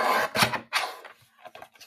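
Scissors trim a thin sliver of paper off a handmade journal pocket, a few short close crisp snips and rustles separated by brief pauses.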